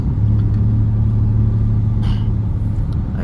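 Low car's engine idling and creeping while being maneuvered at an event venue, a loud steady rumble with a constant low hum and brief faint clatter near the end.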